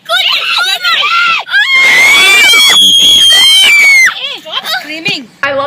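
Several people scream loud and high-pitched as a bear pushes at a door, with shrill, wavering shrieks that rise and break in close, frantic bursts that fill the whole stretch.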